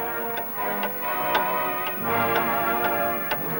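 A dynamite time bomb ticks in a 1959 animated cartoon, a steady tick-tock of crisp clicks about half a second apart, continuing evenly over a faint tonal background without speech.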